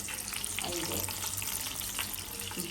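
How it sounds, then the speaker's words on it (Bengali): Pointed gourd (potol) pieces frying in a little oil in a pan, a steady close sizzle running without break throughout. "পটল ভাজা হচ্ছে"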